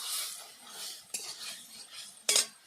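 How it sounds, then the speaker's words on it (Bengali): Red amaranth greens are stirred and sautéed in a pan, with soft scraping of a utensil and two sharper metallic clinks against the pan, quiet and close with no voices. "এবার নেড়ে নেড়ে কিছুক্ষণ কষিয়ে নেব।"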